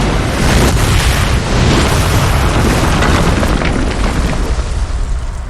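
A bomb explodes in the video game Red Steel 2, a loud sustained roaring blast with rumbling debris that fills the clip and slowly tapers off.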